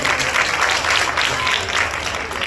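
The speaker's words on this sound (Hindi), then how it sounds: "जोरदार तालियों से" An audience applauds loudly at a folk dance performance, a thick wash of clapping with crowd noise filling the whole moment.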